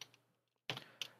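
Keys on a computer keyboard are struck in two short bursts separated by a pause, soft and close in a quiet room.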